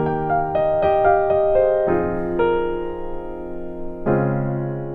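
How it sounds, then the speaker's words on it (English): A piano plays the chord progression of a song, adding sevenths to the last two chords. Full voicings are struck one after another and sustained, close and resonant. "if I was to add a 7th chord to the last two of these chords"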